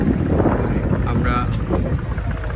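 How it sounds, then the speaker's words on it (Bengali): Large trawler boats on the river at Chandpur Puran Bazar, a broad engine rumble mixed with wind buffeting the microphone, fairly loud and continuous. "আমরা এখানে অনেক ট্রলার দেখতে পাচ্ছি, অনেক ট্রলার দেখেন, অনেক বড় বড় ট্রলার"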